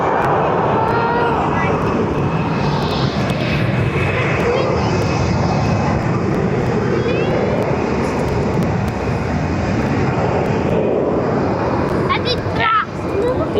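Jet engine roar of an American Airlines Boeing 787-8 at Barcelona airport, a loud steady broadband rumble filling the whole stretch, close by, with people talking over it.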